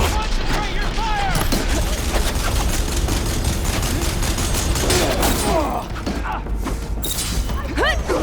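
Battle gunfire in the video game Horizon Forbidden West: a dense, continuous fusillade of rapid shots and mechanical clatter lasting throughout, with voices talking underneath.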